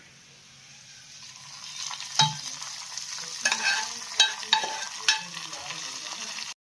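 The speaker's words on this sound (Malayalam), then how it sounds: "കടുക് മൂപ്പിച്ച് ഇനി നമുക്കത് ഈ കറിയിലേക്ക് ഒഴിക്കാം." Mustard seeds splutter in hot oil, with a steady sizzle and scattered sharp pops and crackles building as they fry, followed by a louder hiss as the oil meets the curry; a voice speaks briefly.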